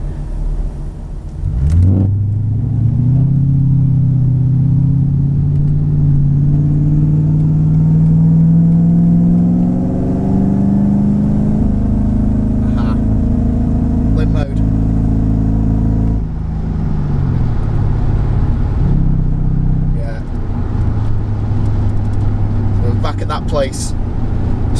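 Supercharged Mercedes-Benz E55 AMG W210 with a Kleemann 55-K2 kit and a misfire, launched from a wide open throttle start: the engine revs up hard and climbs for several seconds, then drops back to a rough idle, with a voice talking over it.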